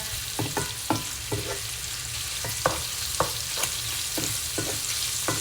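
Bacon and kielbasa sausage fry together in one pan, giving a steady close sizzle broken by repeated sharp scrapes and clicks of stirring, with no voices.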